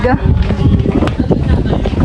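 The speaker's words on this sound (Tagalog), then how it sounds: "Sarap po dito ng hangin. Napakalamig." Gusty wind buffets the microphone with low rumbling bursts while people talk nearby.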